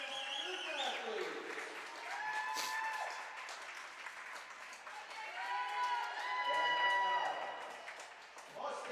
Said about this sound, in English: One more round of applause for our graduating student athletes.